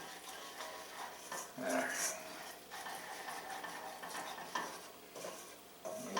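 A roux of flour and fat is stirred in a pan, with soft scraping and faint sizzling, quiet and close. A voice speaks briefly.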